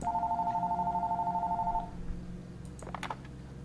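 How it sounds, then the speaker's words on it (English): A telephone ringing in the horror video game Fears to Fathom, a steady electronic trilling ring pulsing rapidly for about two seconds before cutting off, followed by faint clicks and rustles, no speech. "Is that my phone?"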